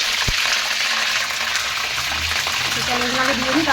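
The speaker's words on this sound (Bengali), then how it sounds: "প্রথমে দেবো ফুলকপিগুলো, কারণ হালকা করে ভেজে নিলে না ফুলকপির গন্ধ ভাবটা কিন্তু চলে যায়" Cauliflower frying in a pan, a steady broadband sizzle that continues throughout, with a brief thump near the start.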